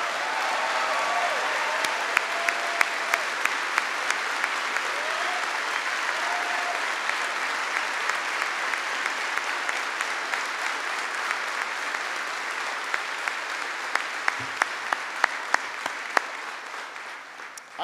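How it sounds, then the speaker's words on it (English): A large crowd at a Veterans Day event in South Korea honoring veterans, President Obama present, gives sustained, even applause that holds steady and then fades near the end, with a few sharp claps standing out. "But please give them a big round of applause."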